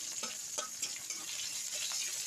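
Dried red chillies, onion and whole spices sizzling in oil in a kadai, a continuous close crackling hiss with scattered sharp pops and occasional stirring scrapes, no talk.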